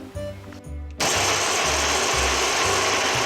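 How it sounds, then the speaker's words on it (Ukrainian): A blender chopping onion whirs loudly and steadily after a short pause, its motor drone constant with rhythmic low thumping underneath. "Цибулю подрібнюємо в блендері."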